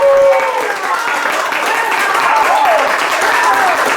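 A studio audience at a Spanish-language talk and storytelling show breaks into loud, sustained applause that fills the whole stretch, with cheering and an excited voice riding over the clapping.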